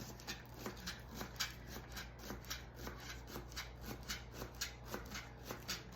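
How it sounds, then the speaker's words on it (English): Knife cutting two scallions on a board, a quiet steady run of short chopping strokes, soft and close, with no talk. "now I've got 2 scallions, and I'm just going to cut these up"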